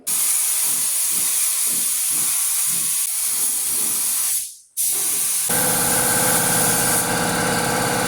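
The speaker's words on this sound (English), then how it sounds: "Paint going down. We're ready for base coat, round 2." Spray gun laying base coat on car sheet metal during rust repair, a steady loud hiss in pulsing passes, a brief cutoff, then a continuous hiss with a compressor humming underneath; no talk.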